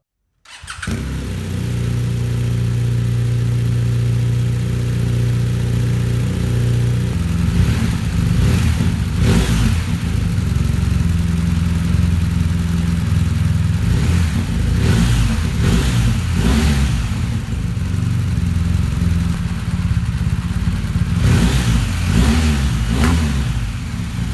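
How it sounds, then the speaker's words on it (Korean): A BMW R 1250 RS touring motorcycle idles loudly up close, its engine revved in several rising and falling bursts over a constant rumble. "엔진 사운드도 들어보겠습니다."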